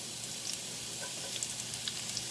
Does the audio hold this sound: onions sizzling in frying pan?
yes